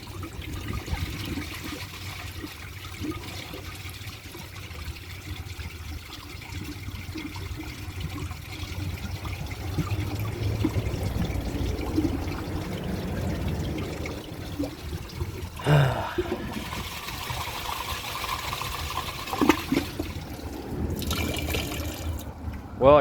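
A 2001 Capizzi toilet flushes with a dish towel in the bowl, a steady rushing wash of water that builds over about fifteen seconds, then gurgles and drains with sharper surges near the end, with no talking.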